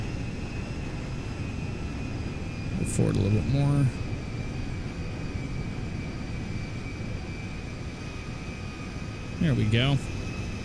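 An Antonov An-225 Mriya airplane taxis on the ground in GTA 5, its engines a steady broad roar throughout, while a voice speaks briefly twice over it.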